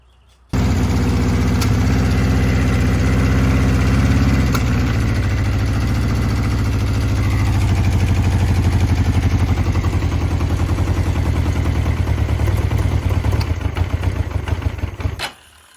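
A 1982 Honda CB650 motorcycle engine runs after a carburetor rebuild, a loud steady close idle with a low throbbing rumble that starts abruptly, holds for about fifteen seconds, then cuts off.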